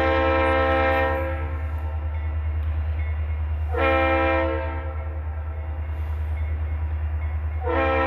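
Norfolk Southern SD40-2 diesel locomotive switching in Greer, South Carolina: a steady low engine rumble under three loud horn blasts, one long and two shorter, heard from nearby.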